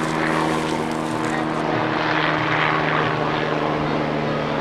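A propeller airplane drones overhead outdoors by the Mediterranean coast, a loud, steady engine hum that holds throughout with no talking.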